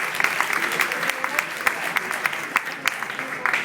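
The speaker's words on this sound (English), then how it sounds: "let's give Steve another round of applause for this wonderful beer he brewed for us this year" Crowd at a brewpub's Fire Chief beer tapping event applauds the brewer, with steady clapping from many hands and some chatter mixed in.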